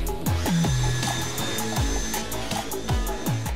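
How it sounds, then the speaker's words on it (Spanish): A power drill fitted with a carbide masonry bit bores holes for wall plugs, whining in short repeated bursts as the motor spins up and slows, each pass close and fairly loud. "Con la broca de vidia, haz los agujeros para los tacos."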